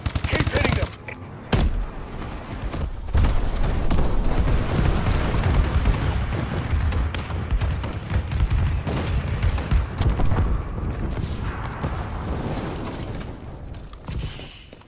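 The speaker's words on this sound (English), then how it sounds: "Friendly bombing run incoming." Bombing run in the video game Call of Duty: Advanced Warfare, a loud sustained barrage of booming explosions and rumbling blasts that rolls on for many seconds, then eases off near the end.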